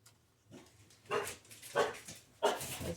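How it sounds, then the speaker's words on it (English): Portuguese water dogs barking indoors, three or four sharp barks at moderate distance, evenly spaced about every half second to second, with quiet gaps between. "Those are my Portuguese water dogs there."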